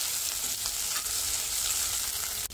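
A tempering of cumin, ginger and green chili fries in homemade ghee for a potato dish, making a dense, continuous crackling sizzle close by with faint stirring and no speech.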